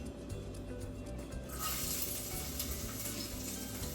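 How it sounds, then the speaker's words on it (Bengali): Chopped garlic hitting hot oil in a wok, a sudden bright sizzle bursting in after a quieter start and carrying on as a steady, close frying hiss. "এবারে রসুন কুচিটা প্রথমে দিয়ে দেব।"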